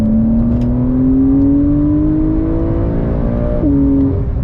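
Porsche 911 Carrera S with a TechArt body kit and PDK gearbox accelerating hard from inside: a loud, steady engine note climbing in pitch, then dropping sharply at a quick gearshift before pulling again.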